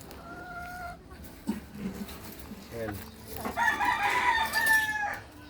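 Native chickens, including hens, cluck nearby while a rooster crows loudly toward the end, with people talking softly underneath.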